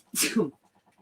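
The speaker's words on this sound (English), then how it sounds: "I'm going to sneeze here quick." A single sharp sneeze bursts out close to the microphone, a quick hissing blast that cuts off into near silence.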